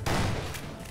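Rapid gunfire from the Half-Life 2: Episode One video game, a loud, dense burst of overlapping shots filling the whole second with no pauses.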